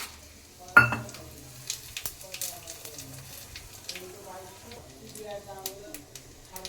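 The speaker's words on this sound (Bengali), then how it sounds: "এই যে এখন ফোড়ন দিয়ে দেবো, এর মধ্যে আছে তেজপাতা, শুকনো লঙ্কা" Bay leaf, dried chilli and cumin hit hot oil for a tempering, a quiet crackling sizzle with a sharp pop near the start, then soft spitting under someone speaking throughout.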